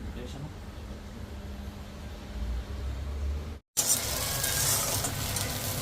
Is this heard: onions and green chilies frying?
yes